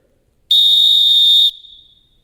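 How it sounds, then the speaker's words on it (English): A single sharp whistle blast rings out clear and loud for about a second, then cuts off into a brief fading tail. "They grabbed the whistle and blew it."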